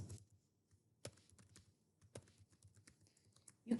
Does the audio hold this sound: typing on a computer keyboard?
yes